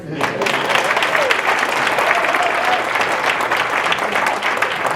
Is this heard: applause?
yes